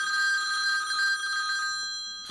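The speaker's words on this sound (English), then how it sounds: "A phone rings." A telephone rings with a bright electronic warble, one sustained ring that fades toward the end, heard alone and close.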